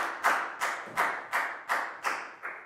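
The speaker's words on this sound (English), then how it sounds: "High five and a big round of applause for Pat, please, guys." Several people clap in a steady, evenly spaced rhythm, about seven claps, close and crisp with no talking.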